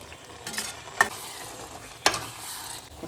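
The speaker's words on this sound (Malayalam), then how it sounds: "വറുത്ത് വെച്ചിരിക്കുന്ന ചെമ്മീൻ ഗ്രേവിയിലേക്ക് ഇട്ട് കൊടുക്കുന്നു." Fried prawns are stirred into a sizzling masala gravy for prawn biryani, a steady soft sizzle broken by two sharp scraping clacks of the spoon against the pan, close up with no talking.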